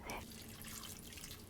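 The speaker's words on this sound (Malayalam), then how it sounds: "1/2 കപ്പ് വെള്ളം ഒഴിച്ച്" Half a cup of water is poured into a clay pot of beetroot stir-fry with green chillies, curry leaves and salt, a short, close splashing pour with dripping that lasts only a moment.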